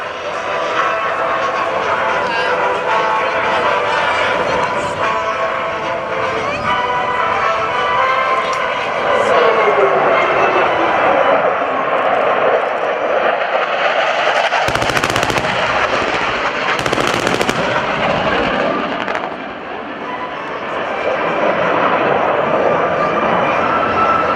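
F/A-18 fighter jets roar past during a naval airshow cluster bomb attack demonstration, a loud sustained jet rumble swelling and fading with sharp bursts mixed in, under a distant announcer's voice.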